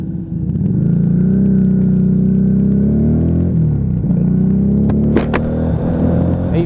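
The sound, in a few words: Lexmoto Vendetta motorcycle exhaust while riding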